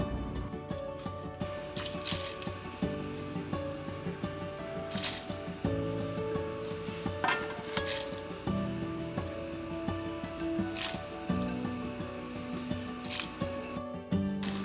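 Shredded beef dropped into a pot of yukgaejang, the spicy Korean beef soup, bubbling steadily at a boil, with wet splashy squishes and intermittent sharper plops and clatters across a continuous simmering bed.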